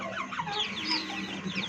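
A broody hen in a cage clucks and murmurs repeatedly, with soft overlapping chirpy calls close by at a moderate level and no talking.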